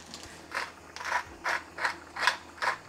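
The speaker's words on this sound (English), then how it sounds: "Freshly ground black pepper." A pepper grinder cranks black peppercorns in six short rhythmic ratcheting bursts, close and fairly quiet, with brief pauses between turns.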